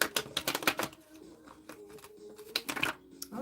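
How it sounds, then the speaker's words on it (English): Tarot cards shuffled by hand in bursts of crisp riffling and flicking, with a quieter stretch of soft shuffling in the middle, close and fairly faint. "So we're going to shuffle this on up."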